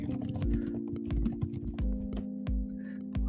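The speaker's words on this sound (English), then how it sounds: "I hope this typing isn't super loud because I'm using the native mic on my laptop" Laptop keyboard typing picked up by the laptop's built-in microphone: brisk, uneven runs of close, clicky keystrokes with short pauses between bursts.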